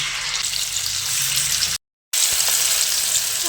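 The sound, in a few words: frying ground spice paste in oil for cauliflower curry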